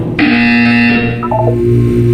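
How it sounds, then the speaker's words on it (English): A buzzer in the video game Portal 2, a loud harsh sustained electronic tone lasting about a second, followed by a lower stepped tone that trails off; no speech. "When you hear the buzzer, look down at the floor."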